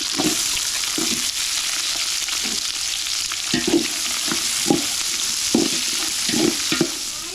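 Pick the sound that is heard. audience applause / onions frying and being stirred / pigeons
onions frying and being stirred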